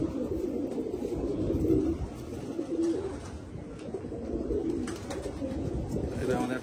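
A female pigeon of the Phulshila line coos softly and repeatedly at close range, the low murmuring calls running steadily under a faint background hum.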